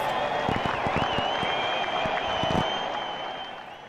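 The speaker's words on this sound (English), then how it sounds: "We'll get some extra fireworks and crowd noise here in Ottawa" Crowd roar and cheering from a baseball video game broadcast, steady and loud throughout, with sharp popping bursts like fireworks scattered over the first few seconds before the noise slowly eases.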